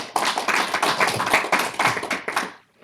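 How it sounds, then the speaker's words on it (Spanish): A church congregation claps together during a worship service, a brisk, fairly close burst of hand claps with distinct individual hits that stops abruptly into silence. "Un aplauso al Señor, iglesia."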